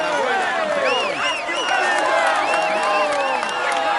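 A large video game crowd at a Tour de France cycling stage cheers and applauds continuously, with whoops and shouts rising over the steady clapping.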